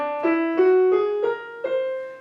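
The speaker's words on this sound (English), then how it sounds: "The whole tone scale sounds like this." Single notes climb stepwise in even whole steps, six sustained tones played one after another on a keyboard-like instrument, clear and alone.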